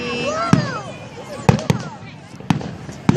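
Canada Day fireworks bursting outdoors, with five or six sharp separate booms spread over a few seconds, heard nearby under excited chatter from people watching.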